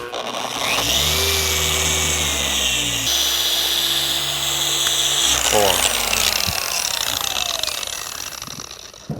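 A power polisher compounds the paint on an EM1 Civic Si, its motor whining loudly up close and shifting pitch in several steps as the speed changes, then winding down at the end.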